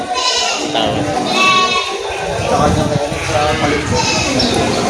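Goats bleat repeatedly in wavering cries beneath someone talking over them in Filipino, with crowd noise around, at a goat market in Padre Garcia, Batangas.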